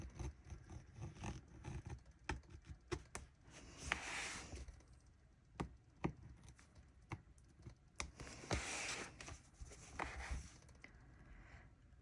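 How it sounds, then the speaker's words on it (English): A gyro-cut craft knife pressed hard through several stacked sticker layers, giving irregular sharp ticks and clicks with short scraping bursts, close and fairly quiet, no voices. "I'm gonna bring the gyro cut up after each cut because I'm going through so many layers"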